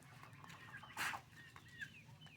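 A breeding rooster and two hens in a pen give soft, faint clucks, with one louder squawking burst near the middle over a low background hum.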